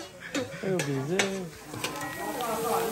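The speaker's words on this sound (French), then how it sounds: "Et là on mélange bien, on laisse cuire." A spoon scrapes and clinks while stirring tomato sauce in a cooking pot as it simmers, close by, with a person speaking over the stirring.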